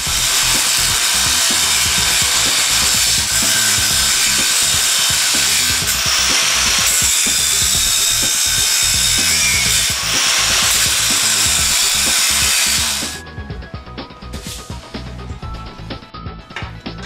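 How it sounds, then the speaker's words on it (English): A power tool whirs loudly and continuously while loosening the screws that hold a car's shocks in place, with brief pauses, then stops, leaving quieter workshop clatter. "loosening up the screws that hold the shocks in place so they can raise the chassis up"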